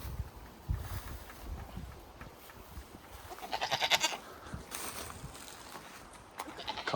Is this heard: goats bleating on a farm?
yes